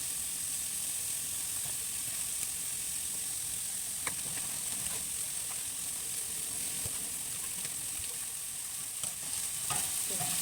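Fatty, greasy chunks of meat fry in their own rendered fat with no added oil, a steady close sizzle and hiss that runs unbroken throughout. Faint clicks of stirring come through now and then, with no voices.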